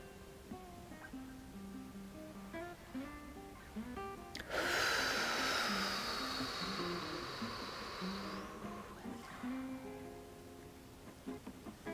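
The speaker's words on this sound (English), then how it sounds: "So here's 2 breaths here." One long, slow, deep breath, drawn in and released over several seconds, with soft music playing underneath.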